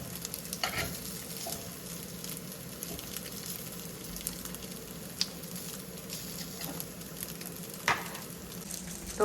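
Soybean tofu fries in a pan until crisp, a low steady sizzle broken by occasional clicks and scrapes of a spatula stirring it, with no voices.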